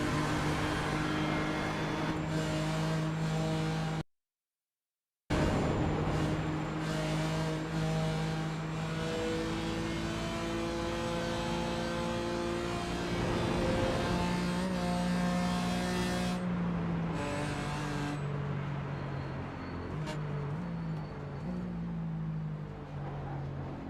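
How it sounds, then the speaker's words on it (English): A BMW GT4 race car in a racing video game drones loudly and steadily at high revs, its pitch rising and falling through gear changes, with one brief cut to silence early on. "Wow, this GT4 BMW sounds so terrible."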